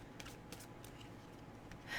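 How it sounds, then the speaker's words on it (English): Tarot cards being shuffled during a reading give soft, papery riffles and brushing bursts, faint and close, with no talking. "So I'm shuffling the cards now for you."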